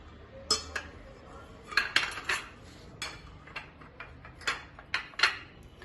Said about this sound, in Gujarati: કેપ્સિકમ છે, જે મેં અડધું કેપ્સિકમ ચોપ કરી લીધું છે, એ એડ કરશું